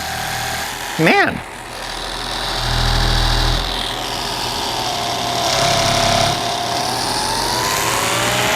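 A mini car polisher runs steadily as it is pressed onto a car panel, a sustained motor drone with slight shifts in pitch and load. Someone talks over it, and a brief sharp whine sounds near the start.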